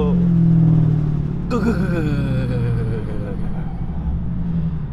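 A Dodge Hellcat with a broken transmission drives along, its engine rumbling low and steady with a whining, rising drone that sweeps upward midway, the sound loud and close throughout.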